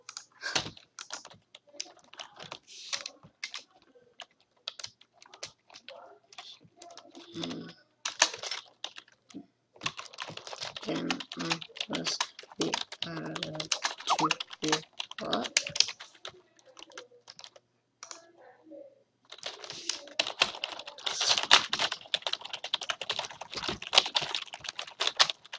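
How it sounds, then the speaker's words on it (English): Rapid, continuous clatter of keys on a computer keyboard, close and crisp, in bursts separated by brief pauses over roughly twenty-five seconds, with no voices. "I actually broke one of my keyboard keys from doing this once."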